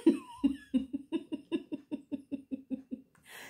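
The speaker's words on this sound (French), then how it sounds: "je tousse parce que entouré de laine" A rapid string of about a dozen hacking coughs, close and loud, slowing slightly toward the end before a short breathy exhale.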